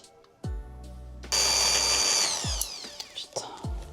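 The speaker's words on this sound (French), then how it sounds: "J'ai la perceuse" A power drill whirs in loud bursts as it bores into a mosaic coffee table, starting and stopping several times with sharp clicks and knocks between runs.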